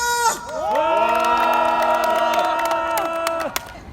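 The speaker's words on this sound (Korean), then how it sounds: "참석한 동지들의 힘찬 박수와 함성으로 시작하겠습니다" A rally crowd gathered to demand resolution for Samsung victims and the breakup of the Samsung conglomerate lets out a loud, sustained shout and cheer with clapping, voices rising together and holding for about three seconds before trailing off.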